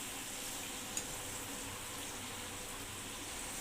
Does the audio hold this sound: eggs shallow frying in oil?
yes